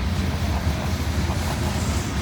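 Heavily loaded boxcars roll past under a train's shove, giving a steady, dense rumble of wheels and rail noise with faint clickety-clack, close by and continuous without voices.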